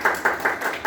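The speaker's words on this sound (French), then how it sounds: "On nous applaudit le Seigneur" A church congregation at a Nazarene service claps together, several rhythmic bursts of close, bright clapping in an indoor hall over just under a second, with no talking.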